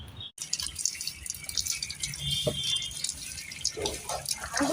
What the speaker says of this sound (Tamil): வாளில தண்ணி திறந்து விட்டு சாமி தண்ணி நல்லா மிக்ஸ் பண்ணி